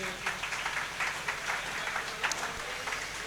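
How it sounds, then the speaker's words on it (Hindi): Audience at a student award ceremony applauds, a dense, moderately loud patter of many hands clapping steadily with light murmuring underneath. "इस बच्चे के लिए भी जोरदार तालियों से"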